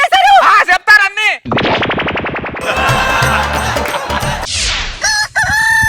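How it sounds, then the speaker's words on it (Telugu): A rooster crows loudly in a comedy sketch, a single drawn-out call at the start. Rapid pulsed bangs and dense noisy effects follow it. "కోడి కూసిందిలే"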